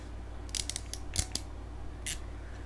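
A crimping tool squeezes a network cable connector, giving a few sharp, close clicks and snaps over quiet background hum.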